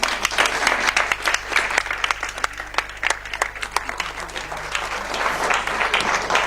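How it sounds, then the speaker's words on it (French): An audience at a public debate on municipal water management applauds the speakers, dense steady clapping from a roomful of people that carries on without a break, with a faint low hum beneath. "je vous demande d'applaudir celles qui nous interviennent"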